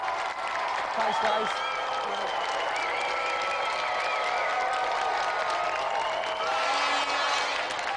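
A TV studio audience at a video-game show applauds and cheers for a guest, a steady roar of clapping that runs the whole time, with a brief spoken thank-you partway through.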